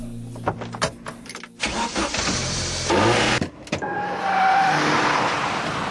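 A Vauxhall VX220 Turbo sits close by, with a few sharp mechanical clunks and a whirring motor, then its engine catches and settles into a loud, steady idle with faint whine.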